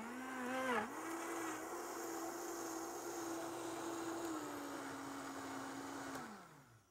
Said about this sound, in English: just make some noise, blend it, and then that will be green smoothie